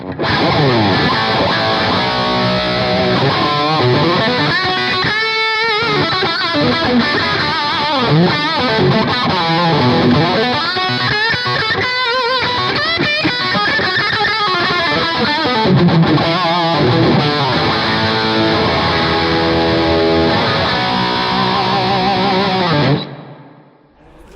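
A heavily distorted Gibson electric guitar riffs continuously at high volume, with sustained chords and quick note runs, cutting off abruptly near the end.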